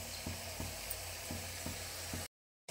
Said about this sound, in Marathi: आता हा मसाला आपल्याला छान परतून घ्यायचा आहे।